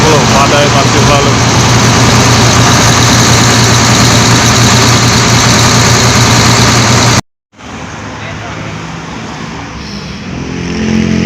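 A parked ALS 270 bus engine idles with a loud, steady low rumble close by. The sound cuts out briefly, then returns quieter and rises slightly toward the end.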